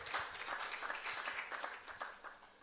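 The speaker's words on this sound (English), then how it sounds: "shall we have a big round of applause for Pratap and his talk?" An audience at an alumni medtech event applauds after a talk. The clapping is steady but fairly faint and lasts a few seconds.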